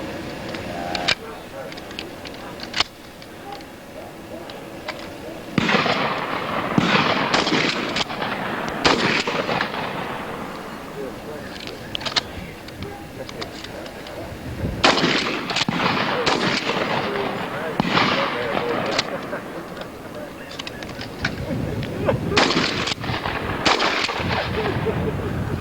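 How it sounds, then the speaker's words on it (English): Shotgun and pistol shots fired on a shooting range, loud sharp reports in irregular clusters, some single and some in rapid succession, with voices talking between the shots. "Go ahead with shotgun."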